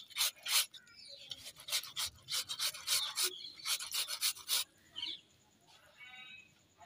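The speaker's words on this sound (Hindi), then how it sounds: "ये मैंने कद्दूकस ले लिया, इसे ऐसे घिसना है" Aloe vera is rasped against a kitchen grater in quick scraping strokes, a rhythmic series of close, gritty rubs that pause briefly midway, with faint bird chirps in the background as the strokes trail off.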